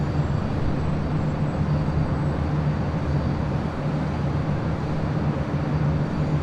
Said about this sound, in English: 787-8 Dreamliner.